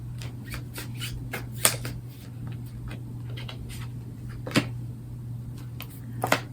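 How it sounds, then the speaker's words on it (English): A brand-new, slippery tarot deck is shuffled and handled up close, giving soft riffling flutters and sharp card snaps that recur irregularly over a quiet background hum. "This is a brand new deck and it's very slippery, so please bear with me while I drop the cards."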